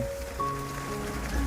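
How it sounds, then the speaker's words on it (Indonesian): Heavy rain pours steadily at close range on a village street in Mulyorejo at night, a continuous broadband wash with a few faint tonal hums underneath. "ketika hujan deras seperti ini"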